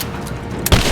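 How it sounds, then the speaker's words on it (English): Gunfire rings out in the action video game Rise of the Tomb Raider, a burst of rapid shots capped by one sharp, loud boom near the end, with no talking. "I'm under fire!"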